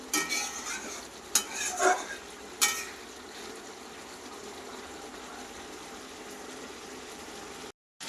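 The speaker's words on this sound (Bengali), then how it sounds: "ভালোভাবে নাড়াচাড়া করতে করতে এখান দিয়ে তেল ছাড়বে" Mughlai curry being stirred in oil in a pan: a few brisk scraping strokes of a spoon near the start, then a continuous soft sizzle of the simmering curry, with no speech.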